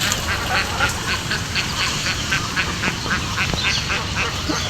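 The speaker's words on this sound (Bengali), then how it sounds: "অনেক হাঁস দেখা যায়" A flock of ducks quacking repeatedly in a rapid, overlapping chatter, moderately close and steady throughout, heard over an outdoor background hiss.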